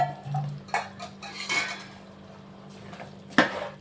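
A metal spoon clinks and scrapes against the inside of a pressure cooker while chicken biryani is stirred, with several sharp knocks spread through the clip and a faint low hum underneath.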